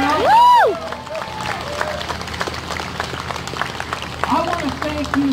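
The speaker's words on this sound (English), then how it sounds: "Let's give them a round of applause as well." An outdoor rally crowd claps for veterans, opening with a loud whooping shout close by, then scattered applause and crowd murmur with more whoops near the end.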